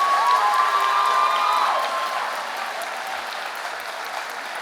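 Applause and cheering fill a school homecoming assembly for the 2023 Homecoming Court, a large crowd clapping steadily with high shouts and whistles over it, easing off gradually.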